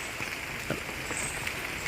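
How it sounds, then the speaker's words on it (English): Light drizzle falls in a Singapore park connector with bamboo along a trail, giving a soft, steady patter and hiss with faint scattered drops close by. "If you can hear the sounds of the rain falling."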